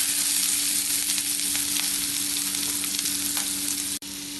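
Chopped garlic, ginger and green chili sauté in hot oil in a pan, giving a loud, dense, continuous sizzle close up with a faint stirring texture and one brief dropout near the end.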